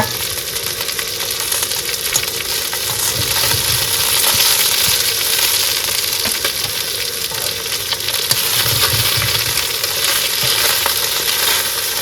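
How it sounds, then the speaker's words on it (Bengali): Fish frying in hot oil in a pan, freshly caught river fish, with a steady dense sizzle running throughout and a few brief stirring clatters, close and fairly loud, no talking. "বন্ধুরা মাছ ভাজা কিন্তু হয়ে গেছে"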